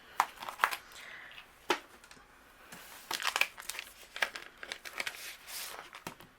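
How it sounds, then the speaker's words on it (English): Paper cardstock being cut with stencil dies for a card: close, soft crinkling and rustling with a few sharper snaps and crackles, unevenly spaced, no voice. "let's start by doing our die cutting"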